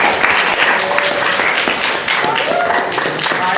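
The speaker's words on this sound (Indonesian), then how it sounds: "Tepuk tangan untuk Naila." Dense applause from a classroom group cheering a quiz winner, steady and close for the whole stretch, with faint voices mixed in.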